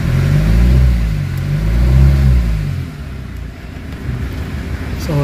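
A Kia Sorento 4x4 with automatic transmission cranks without starting, a loud low rhythmic churning for about three seconds before dropping to a quieter rumble.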